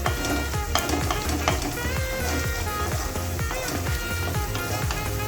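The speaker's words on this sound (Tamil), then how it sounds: "கொஞ்சம் நல்லா இந்த பச்சை வாசனை போக நல்லா வதக்கிடணும்." Masala sautéing in oil for an okra gravy: a busy, steady sizzle with frequent stirring scrapes and clatter, close up, and faint tonal sounds underneath throughout.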